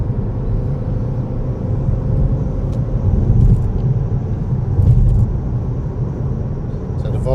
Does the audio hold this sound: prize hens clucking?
no